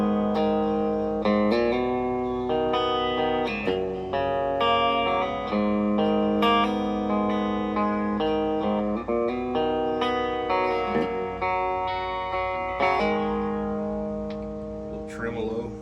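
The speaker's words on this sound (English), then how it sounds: "I got a great reverb dialed in" An electric guitar runs through an amp with reverb from an M9 effects unit, slightly bright, playing chords and single notes that ring out with long, washy tails, close and clear over about sixteen seconds.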